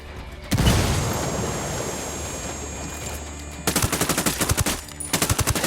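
A frag grenade booms loudly in the video game Ghost Recon Wildlands, its rumble trailing off before sharp bursts of rapid automatic gunfire crack out in quick volleys.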